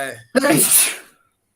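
A single sharp sneeze bursts out after a short spoken sound, then fades into silence.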